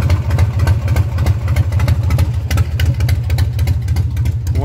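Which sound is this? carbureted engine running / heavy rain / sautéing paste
carbureted engine running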